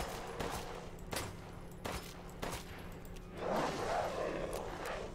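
Bursts of gunfire from the video game Resident Evil Village ring out in several sharp shots over a low in-game ambience, with a rougher noisy stretch near the end.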